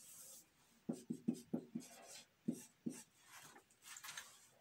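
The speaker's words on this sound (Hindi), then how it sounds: "तो चलिए गाइज आपके लिए मैं होमवर्क के लिए क्वेश्चन लिख देता हूं।" Chalk or marker tapping and scratching on a board as a homework quadratic equation is written out, a rapid run of short strokes followed by a few slower, scraping marks, close and fairly quiet.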